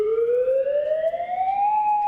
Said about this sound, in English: Hawaii had become the first state in the nation to test its attack alert sirens.